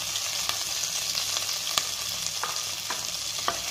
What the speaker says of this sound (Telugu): వేసుకొని కొంచెం కలర్ వచ్చిందని ఫ్రై చేసుకుందాం